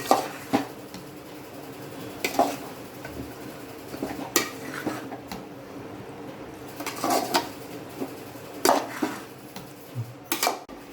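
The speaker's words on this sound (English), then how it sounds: "We'll add over a mushroom and the soya chunks as well, according to taste, and we'll give a quick stir to everything." Masala stirred with mushrooms and soya chunks in a metal pot, giving repeated close spoon clanks and scrapes against the pot over a low sizzle, in irregular bursts.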